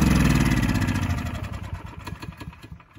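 Troy-Bilt 3250 watt generator with a Briggs & Stratton 900 Series engine running, a loud close rumbling drone that pulses rapidly and eases down in level over a few seconds, with no talking.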